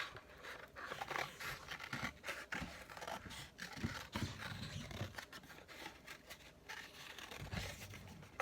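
Scissors cutting through a cardboard toilet paper roll close up, a quiet run of rough snipping and scraping crunches with small pauses between cuts.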